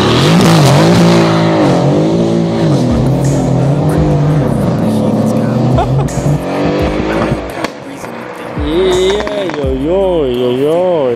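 A 660-hp Mercedes-AMG with a modified straight-through exhaust and a custom engine map drifts on a wet surface. Its engine revs loudly in repeated rising and falling swells, with tire squeal, while people talk over it.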